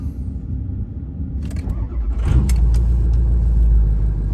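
A faulty 6.0 Powerstroke diesel truck engine cranks briefly, then catches and settles into a steady, loud low rumble close by.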